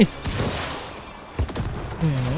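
Bursts of gunfire in the video game World War Z Aftermath: a few sharp, loud shots spread over a couple of seconds, with game noise and faint voices in the background.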